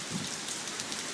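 Rain falling during Hurricane Isaac, a broad steady hiss of drops with no voices, heard for about a second.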